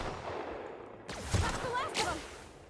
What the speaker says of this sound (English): It's a good thing I stole this sniper.